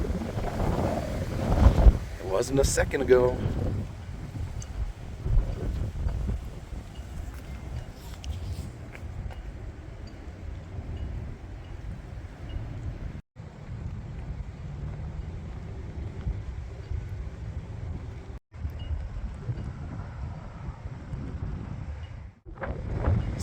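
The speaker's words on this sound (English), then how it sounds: "Whew, now it's really gusting up." Strong, gusting wind outdoors on a walk, heard as a constant low rumbling buffet against the microphone that lasts throughout, with a brief spoken remark near the start.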